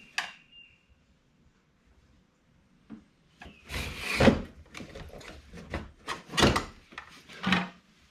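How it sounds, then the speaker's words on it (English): A blower motor being pulled out of a 200k-mile Saab 9-5 Aero, heard as close plastic scrapes, rubs and knocks in irregular bursts after a quiet pause, with no talk. "we should be able to pull out the blower motor now"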